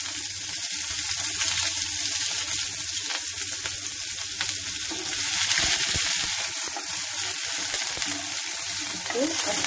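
Mustard seeds and onion frying in a pan for tomato puree poha, a steady close crackling sizzle throughout with occasional stirring scrapes.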